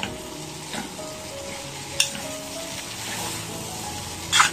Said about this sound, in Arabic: الخضار بتاعي كله بيتشوح مع بعضه.